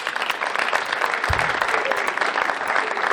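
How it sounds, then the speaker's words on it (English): Steady audience applause at a school fall jazz concert, a dense wash of clapping throughout with a brief low thump partway through. "I'd like to get a special round of applause for Johnny back there on drums"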